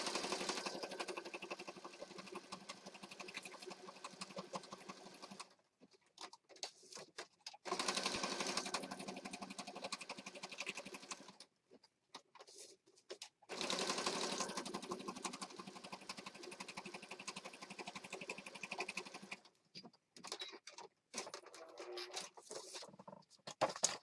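Sewing machine stitching around a paper piece for a junk journal, running in several long close bursts separated by brief stops and rustling.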